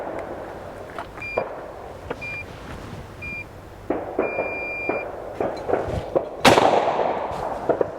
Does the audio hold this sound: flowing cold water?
no